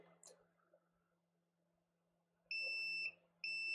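Multimeter in continuity mode during a laptop backlight fuse repair, giving two close, clear electronic beeps, the first about half a second long and the second starting just after, over a faint background hum with some light handling noise at the start.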